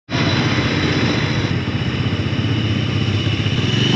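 Motorbikes idling and being revved as a group gets ready for a ride in Belpahari, Jhargram, a steady close engine rumble with a small change in tone partway through, continuous and with no talking.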